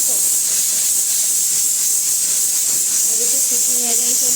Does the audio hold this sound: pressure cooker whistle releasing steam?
yes